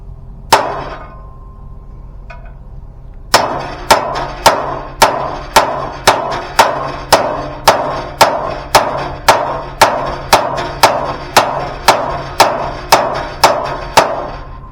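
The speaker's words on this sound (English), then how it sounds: "a bigger hammer might help" A hammer beats on hot metal while building a kayak trailer, one lone strike followed by a steady run of about twenty loud, evenly spaced blows.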